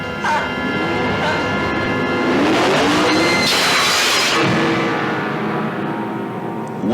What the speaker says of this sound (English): I think I hear the engine of that car.